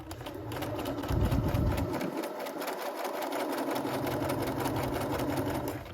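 A sewing machine top stitching a bucket hat runs in a fast, steady mechanical whir with a rapid needle rhythm, close and continuous for the whole stretch, with a brief louder thump partway through.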